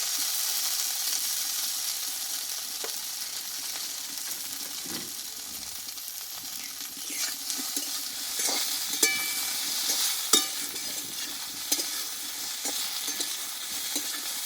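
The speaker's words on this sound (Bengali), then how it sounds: "এখানে কিন্তু ভেন্ডিটা আরও কিছুক্ষণ মতো আমি কষিয়ে নেব" Okra sautéing in a pan gives a soft, continuous sizzle, with irregular scraping clicks from stirring that grow more frequent and sharper toward the end, close by and without talk.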